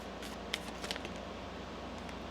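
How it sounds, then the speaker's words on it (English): Tarot cards are shuffled quietly at close range, a soft, continuous riffling with a few light slaps and flicks as the deck is handled. "One more shuffle."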